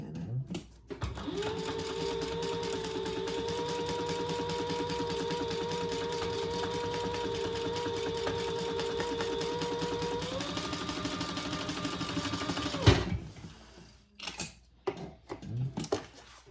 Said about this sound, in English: we're gonna center that on top of that back panel that we just created with our flap and sew that together at our seam allowance